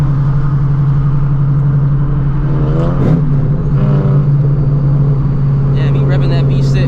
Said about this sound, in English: me revving that V6